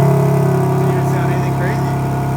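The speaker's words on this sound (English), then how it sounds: "First ever startup, single mid." A BMW G80 M3 fitted with a 4-inch single midpipe runs with a loud, close, steady engine drone that holds evenly throughout, with no clear rev or startup burst.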